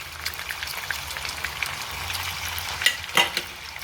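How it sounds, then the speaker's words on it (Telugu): Chicken pieces frying in hot oil for a chicken fry made without onion, a steady close crackling sizzle with scattered pops and a few louder spatters near the end. "ఆయిల్ కొంచెం కాగింది. చికెన్ వేసేసుకుందాము."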